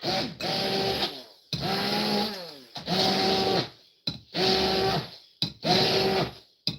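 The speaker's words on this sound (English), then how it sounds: "I'm going to fold it in and then we'll go back through it with the little blender." A small blender whirs through a falafel mixture in five short, loud pulsed bursts separated by brief pauses, its motor pitch sagging and rising with each run.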